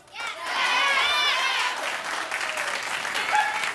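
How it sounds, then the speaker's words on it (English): A television talk show studio audience claps in a broad wash that swells and holds steady, with the host's voice sounding over the clapping. "Clap if you do."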